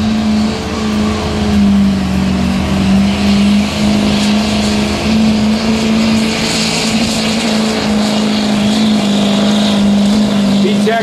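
A diesel street truck pulls a sled at a truck pull, its engine a loud, steady, close drone with a strong low hum held for the whole stretch, while a voice talks over it.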